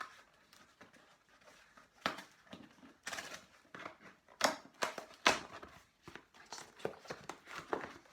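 An Amazon cardboard package of books being opened up close: scraping, tearing and rustling bursts of cardboard and packing, irregular and fairly quiet, with no clear talk.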